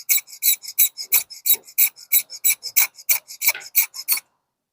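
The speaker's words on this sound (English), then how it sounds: "make sure that you are really sharpening it. You have to rub it again for you to achieve this sharpness." A metal dental instrument is rubbed against an abrasive surface to sharpen it: about fifteen quick, even rasping strokes, close and crisp, with no voices.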